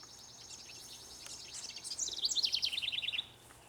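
Birds chirp near their nest in a spring garden, a quick rhythmic series of bright, fairly loud calls that grows busier toward the end over a faint background.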